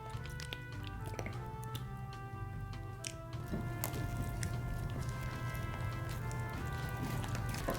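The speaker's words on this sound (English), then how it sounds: "I'm gonna go ahead and activate it with my activator." Thick, glossy homemade slime is stirred with activator, giving close, wet squishing and sticky clicking sounds in irregular bursts over a steady low background hum.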